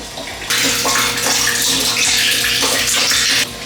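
A strong stream of fresh water from a boat's watermaker suddenly starts gushing and splashing nearby, running steadily for about three seconds before cutting off.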